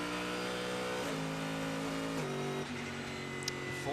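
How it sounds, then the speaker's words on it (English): A Ford race car with a flat-plane Coyote V8 howls around the circuit during the Sebring twelve-hour endurance race, its steady high-pitched engine note stepping down through gear changes, loud and continuous with no voices. "The Ford is hustling around. That's the flat plate Coyote V8 that you can hear."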